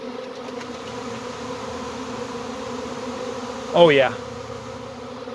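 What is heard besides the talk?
honey bee swarm with wings flapping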